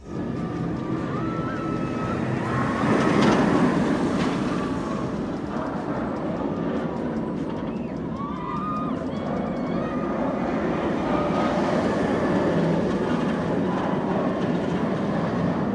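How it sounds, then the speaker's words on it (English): A B&M giga roller coaster train rumbles and roars along its track at a distance, a continuous rolling noise with wind, steady and moderately loud throughout. "the portion of the coaster that runs in front of the park's main entrance is also quite loud"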